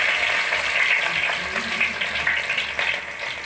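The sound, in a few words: chopped garlic frying in oil after mustard seeds pop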